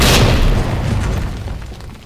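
A grenade detonates in Resident Evil 2, a loud close boom with a burst of debris that rolls off into a fading rumble over about two seconds.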